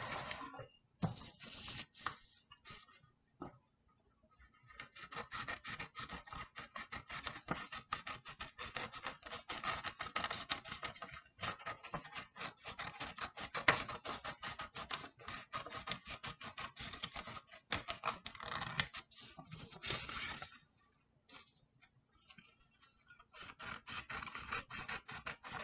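Scissors slicing through fabric while cutting out a tie-style face mask, a close, dry scratchy rasp running in long continuous strokes with a few short pauses.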